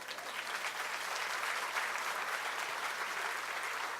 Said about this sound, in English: you guys deserve a round of applause for that